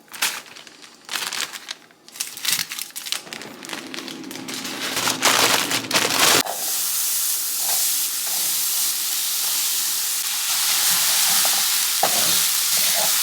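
Onions frying in a pan, after chorizo was cooked in it: steady close sizzling and hissing with stirring scrapes at first, then a continuous loud sizzle.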